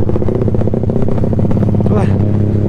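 A motorcycle engine rumbles close and loud with a fast, pulsing beat during an evening ride between East and Central Java, holding steady throughout.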